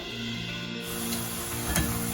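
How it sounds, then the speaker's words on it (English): Onion fritters sizzle steadily in hot oil, a continuous close frying hiss with a small burst of crackle near the end. "This onion fritters have been frying for the last 5 minutes."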